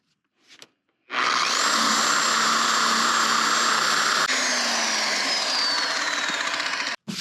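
A power sander runs loud and steady on a greasy coating for several seconds after a brief faint noise, with a high whine drifting slightly, then cuts out briefly near the end.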